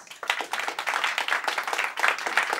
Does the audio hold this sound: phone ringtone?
no